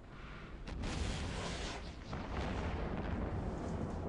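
Ships in a space game fire weapons together during a gank, a dense continuous roar of heavy blasts and booms with swelling bursts throughout, loud and unbroken, no talking.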